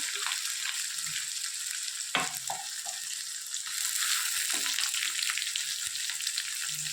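Cumin seeds, mint and curry leaves sizzle steadily in hot oil in a pan for a vadapav recipe, a loud continuous crackle with brief stirring clatter.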